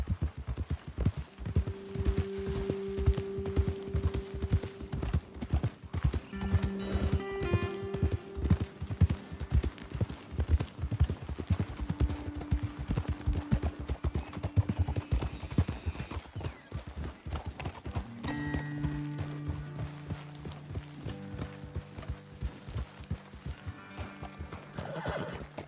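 Horses trot steadily in Red Dead Redemption 2, their hooves clip-clopping in a dense, continuous rhythm throughout, with occasional whinnies and a low hum beneath.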